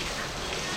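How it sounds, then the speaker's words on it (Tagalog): A dense, steady wash of rain noise, loud and continuous throughout the short moment. "Lakas ng ulan. Grabe."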